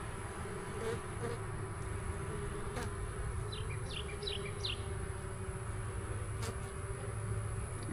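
Honeybees buzzing at a nuc hive outdoors, a constant dense hum with a few faint bird chirps in the background and no voices.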